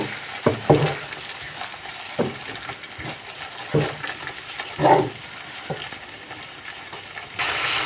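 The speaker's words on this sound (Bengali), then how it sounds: "মশলাটাকে ভালোভাবে কষিয়ে নিয়েছি," Spice masala cooked down with blended tomato puree for hotel-style chola bhuna, sizzling in oil while a spoon scrapes and stirs in several distinct strokes, close and fairly loud, with no talk.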